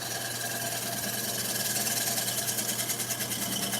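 A wood lathe spins a platter while a steel scraper cuts across its outside face, producing a steady, close, continuous whirring hiss with a faint low hum underneath and no talking.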